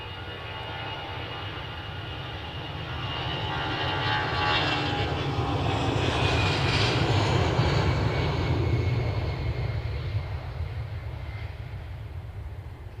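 Airliner taxiing at Edinburgh Airport, a steady low engine rumble and whine that swells as it rolls nearer the terminal windows around the middle, then eases slightly, continuous with no talk.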